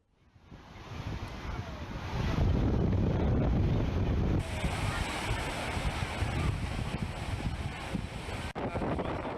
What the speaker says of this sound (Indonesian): Sudah sepekan ombak di Danau Toba naik disertai angin kencang.